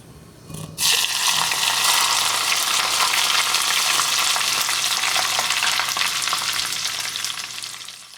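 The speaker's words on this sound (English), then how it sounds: "After you put hot oil on the chili, you get this sound." Loud, steady sizzling and crackling of hot oil poured over chili, starting abruptly after a short pause and fading slightly toward the end.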